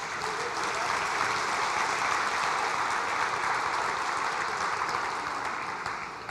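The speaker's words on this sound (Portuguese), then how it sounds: "Você pode dar uma salva de palmas para Jesus?" A church congregation applauds in a steady, dense wash of clapping that holds at full strength for several seconds before easing slightly at the end, with no voices over it.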